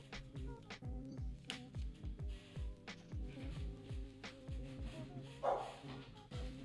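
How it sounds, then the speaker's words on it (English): A pet dog barks repeatedly in quick, fairly regular bursts, faint and somewhat distant in a room. "My doggo's barking."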